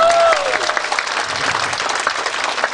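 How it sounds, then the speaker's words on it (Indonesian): An audience at an Indonesian Prudential seminar breaks into sustained, dense applause that fills the space, with a brief voice tone at the start fading under the clapping. "Sekali lagi tepuk tangan buat semuanya."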